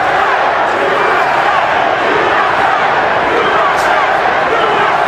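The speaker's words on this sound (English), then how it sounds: "you hear a chanting of USA. As American fans here take up the chant to support Mayweather" Arena crowd at a Mayweather vs Castillo boxing match, a dense, loud, continuous roar of voices that seems to hold a chant, close and unbroken.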